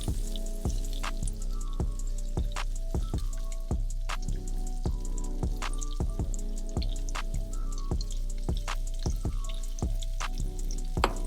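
Salmon sizzling on a grill, a steady crackle with sharp pops and drips spaced irregularly throughout, close and continuous with no talking.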